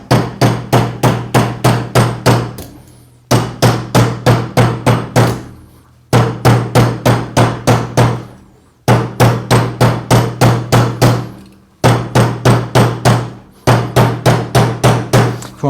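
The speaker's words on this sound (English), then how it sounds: "you can start to hammer. And as you hammer along the one side here, you're hammering the curvature into the metal." Metal being hammered into a curve on a bangle forming mandrel with a die set, struck in loud, steady, rapid runs of blows with short pauses between bursts, close up and with no talking.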